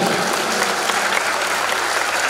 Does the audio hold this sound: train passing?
no